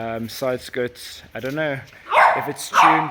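A person talks while dogs bark loudly nearby, a few sharp barks breaking in over the speech toward the end.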